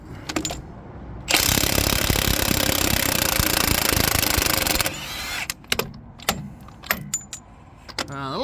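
Impact wrench or gun rattling off a wheel nut on a MAN 7.5 ton horsebox, one loud sustained burst of several seconds followed by scattered metallic clinks and taps.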